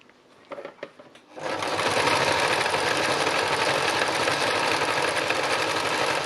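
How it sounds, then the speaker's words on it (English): Sewing machine stitching an art piece runs steadily and loudly after a second of quieter handling noises, a dense continuous whir with fine rapid needle rhythm, close up. "I'm still sewing and sewing and sewing."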